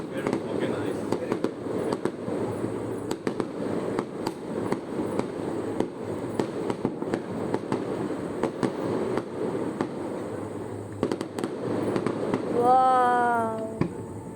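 An organized professional fireworks display keeps going with a dense run of popping and crackling bursts throughout, steady and fairly loud, with a voice exclaiming near the end.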